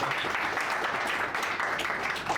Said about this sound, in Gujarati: આ વખત જોરદાર તાળી થઈ જાય